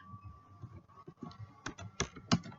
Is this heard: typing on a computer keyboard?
yes